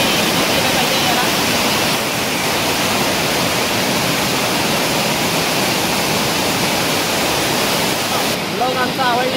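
Nand waterfall at Akoli roars as a loud, steady broadband rush of falling water that fills the whole scene without break. Faint voices show here and there beneath it.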